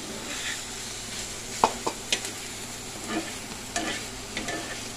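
Boiled potatoes sautéing in a pan for an egg roll filling, a low sizzle broken by a few sharp spatula knocks and scrapes as they are stirred, with no one talking.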